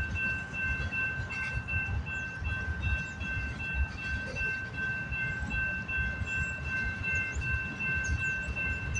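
A freight train rolls steadily past at Delray Junction in Detroit, Michigan, a continuous low rumble of wheels and cars with a sustained horn-like tone held throughout, fairly distant and without voices.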